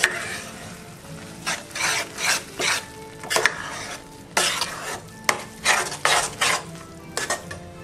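Sugar syrup being stirred into a laddoo mixture in a metal pan, heard as a close, rhythmic series of scraping, sticky stirring strokes with short pauses between them and no voices.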